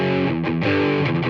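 Electric guitar played through a NuX Steel Singer Dumble-style overdrive pedal with the gain turned all the way up: a brief burst of thick, saturated chords ringing close and loud, changing a few times without pause.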